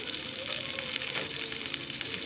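Garlic pieces fry alongside onion in hot oil, making a soft, continuous sizzle with faint crackle and light stirring.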